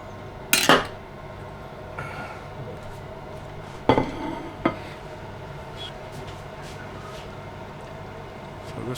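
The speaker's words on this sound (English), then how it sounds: "Now we're going to cut it in half and see what we got inside." A knife and metal utensils working through a baked quiche Lorraine in a home kitchen, producing a few sharp clinks and scrapes against the dish between quiet stretches.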